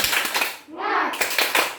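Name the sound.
children doing the 'tepuk semangat' clapping chant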